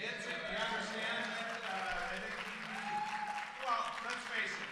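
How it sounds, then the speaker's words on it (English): Clapping from an audience at a Democratic Rural Council gathering during the 2024 DNC in Chicago, a steady round of applause filling the room with crowd noise and voices mixed in throughout. "Big round of applause for David"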